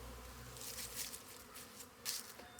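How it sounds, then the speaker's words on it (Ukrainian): Honeybees hum around the hives at a winter apiary on a mild day, a faint, steady buzzing drone outdoors with a few louder passes of individual bees close by. "Гул стоїть на пасіці"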